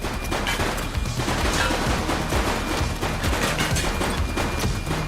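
Dense, continuous rapid gunfire in The Precinct, a police action video game, with overlapping shots and loud bangs crackling nonstop at close range.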